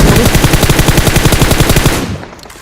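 Rapid automatic gunfire in the mobile game PUBG Mobile, a loud, fast, evenly spaced burst lasting about two seconds before cutting off into quieter noise.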